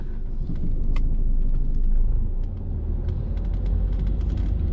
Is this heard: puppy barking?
no